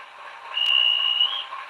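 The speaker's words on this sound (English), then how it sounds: "If you press it for longer, then you get this kind of elongated kind of guards whistle." A long, steady guard's whistle from a train simulator video game, one sustained shrill tone held for about a second over a quiet hiss, with a brief click at the start.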